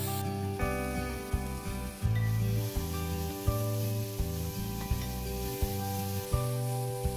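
Steady sizzle of dried prawns frying in a pan over low heat, a soft continuous hiss running beneath prominent background music.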